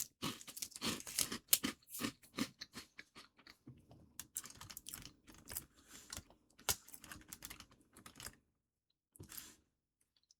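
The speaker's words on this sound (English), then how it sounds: "I will be eating snacks throughout this stream." Snacks crunch and get chewed close to a microphone in irregular bursts of crisp, clicky bites, fairly faint, with short pauses and a gap near the end, no talking.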